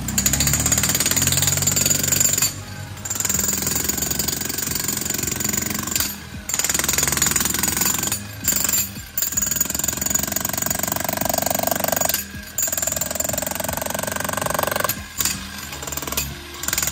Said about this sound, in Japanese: 滝口のね、薄いコンクリートをね、すべてね、壊しました。